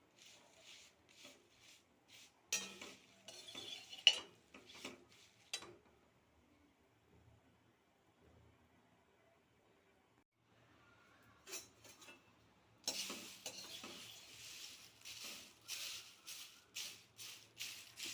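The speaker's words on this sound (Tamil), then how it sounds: "அடுத்தது கருவேப்பிலையை போட்டு அது நல்லா மொறுன்னு வர்ற வரைக்கும் வறுக்கணும்." Curry leaves are roasted and stirred in a pan until crisp while making olive-seed idli podi. Faint, intermittent scraping, rattling and crackling bursts come close by, separated by quiet pauses.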